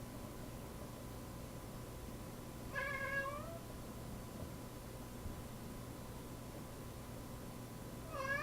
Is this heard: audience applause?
no